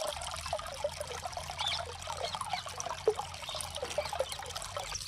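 Water from a motor pump pours onto a newly built house, a soft continuous trickling and splashing with small irregular drips, faint and steady with no voices.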